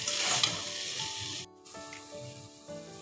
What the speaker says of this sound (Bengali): এই মশলাটাকে আমি 5 থেকে 7 মিনিট কষিয়ে নিব।